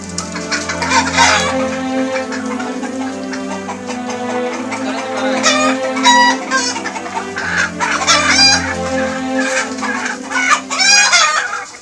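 A live chicken clucks and squawks loudly close by, with several excited bursts of cackling and a crowing-like cry, no clear speech.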